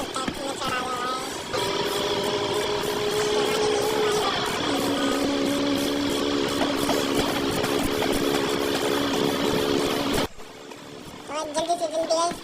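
Swaraj tractor engine running steadily with a broad, loud diesel rumble for about ten seconds, then cutting abruptly, with brief clattering after.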